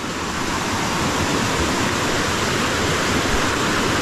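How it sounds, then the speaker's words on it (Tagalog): Floodwater surges through a rice field, a loud, steady rushing roar of fast-moving water that holds constant throughout without any talk. "Malaki pa ang tubig. Hindi makakatawid dito."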